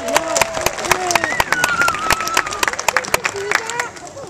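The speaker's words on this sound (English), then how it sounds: "That's right, folks, if you want to applaud that" An audience at a sea lion swimming demonstration gives loud, sharp, irregular applause with scattered cheers and crowd voices mixed in, continuing throughout.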